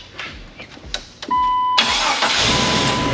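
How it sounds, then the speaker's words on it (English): Jeep TJ engine cranks with several short starter bursts, then catches and settles into a steady, loud idle nearby. "So let's go see if it starts up. Wonder if it's gonna start up."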